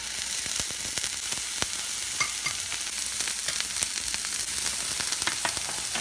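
Sea scallops sear in a hot pan of extra virgin olive oil, giving a steady, dense sizzle with faint crackles and pops scattered throughout, close and even, with no voices.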